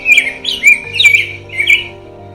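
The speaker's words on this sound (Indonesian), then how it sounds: "Kicau burung sudah terdengar." Morning birds chirp and squawk loudly in four or five close, sharp bursts over a faint steady low hum, with no voices.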